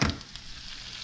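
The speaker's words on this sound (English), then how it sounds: "So we're gonna saute that garlic for just a few minutes." Garlic sautéing in a hot pan for a snook dish, a steady close sizzle that flares loudly at the start and then settles into a soft continuous hiss.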